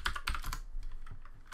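Quick, close keystrokes tap out code on a computer keyboard in a brisk, uneven run of clicks, with no talking.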